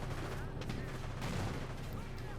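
US Rangers firing weapons in Company of Heroes, a dense rattle of distant small-arms gunfire blended with battle rumble, steady and low in level beneath a caster's commentary.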